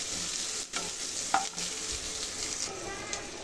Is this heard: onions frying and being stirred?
yes